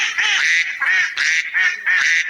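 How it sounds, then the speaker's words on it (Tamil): A duck quacks five loud, close, nasal calls in a row, each pause short, with nothing else heard in the background. "வாத்து கத்தும்."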